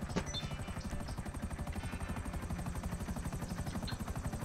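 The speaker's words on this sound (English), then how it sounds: "Your helicopter will be with you directly." A helicopter's rotor thumps in a fast, even rhythm with a high turbine whine above it, steady and fairly close throughout, with no talk.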